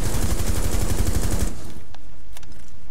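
Rapid automatic gunfire in the tactical shooter Rainbow Six Siege, a loud sustained burst for about a second and a half that cuts off, followed by a few faint clicks and quieter shots.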